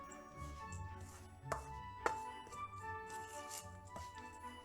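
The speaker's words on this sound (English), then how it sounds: "Continue to stir everything together until all the flour has disappeared" Crumbly snowball cookie dough with chopped walnuts being stirred in a bowl, with a few distinct knocks and scrapes over a steady background of music.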